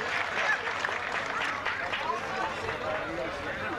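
Crowd applause at a traditional Turkish oil wrestling tournament: steady, dense clapping from a large outdoor audience that holds at an even level throughout, mixed with crowd noise and a voice over a loudspeaker.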